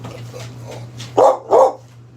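A pet dog gives two short, close barks in quick succession, following quieter whimpery sounds over a steady low electrical hum indoors.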